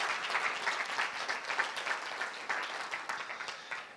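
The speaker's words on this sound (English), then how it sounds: "Let's give them a big round of applause, ladies and gentlemen." Audience applause at a panel event on stage, a steady dense wash of many hands clapping that holds at an even level throughout, with no talking.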